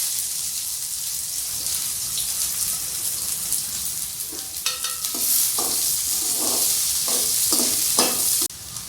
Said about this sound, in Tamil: அப்புறம் நம்ம கட் பண்ணி வச்சுருக்க வெங்காயம் ஆட் பண்ணிக்கலாம்.